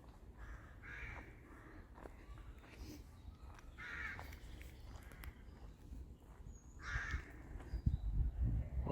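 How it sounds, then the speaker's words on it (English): Crows cawing in the gardens of Walmer Castle, several harsh calls spaced out over a quiet background, with faint footsteps and low rustling nearby. "What better than to sit and listen to birds and silence?"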